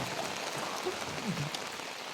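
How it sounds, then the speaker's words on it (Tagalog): Heavy rain falling outdoors, a dense steady patter that stays even through the short stretch, with no voices over it. "Naabot kami ng malakas na ulan."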